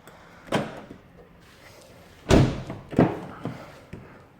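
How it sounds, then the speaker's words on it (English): A few thuds and clunks of the doors and latches of a 2016 Volkswagen Polo being unlocked, one louder thump in the middle followed by two lighter knocks, nearby with quiet background. "let me unlock the car doors"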